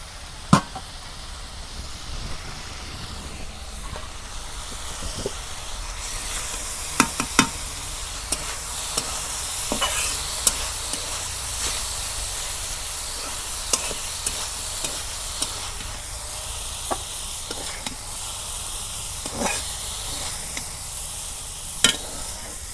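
Cabbage frying in oil in a village kitchen pan, a steady sizzle running throughout with scattered sharp scrapes and clacks of the stirring utensil, close and moderately loud, no voices.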